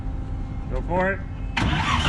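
The Warbird car's engine cranks on the starter with a whirring, stuttering turnover, then catches and fires into a loud, close running roar.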